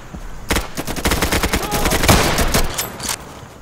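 Bursts of rapid automatic gunfire in a shooting video game, loud and rattling in dense volleys with a heavier crack near the middle, the shooting dominating throughout.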